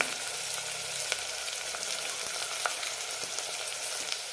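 Coriander and mint leaves sautéing in a pan for kuska biryani, a dense, even frying hiss with faint crackles and light stirring throughout.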